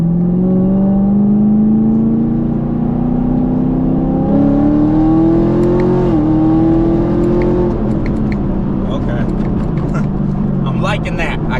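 ProCharger-supercharged car engine pulling hard at wide open throttle, a loud steady drone climbing in pitch over several seconds, then easing off into rougher, lower running with some faint rattles near the end.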